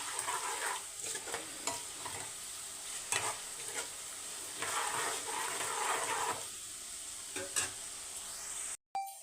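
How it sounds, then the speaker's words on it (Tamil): Garlic sautéing in oil on a stove, a constant soft sizzle with repeated scraping and stirring strokes of a utensil, fairly quiet and close, with no voices. "ஒரு அஞ்சு நிமிஷம் பூண்டை வந்து எண்ணெயிலே வதக்கி எடுத்துக்கோங்க"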